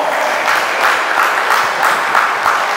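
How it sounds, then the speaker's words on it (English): An audience gives a steady round of applause at a gathering, dense even clapping with slight rhythmic swells, alone and fairly loud. "So give her a round of applause."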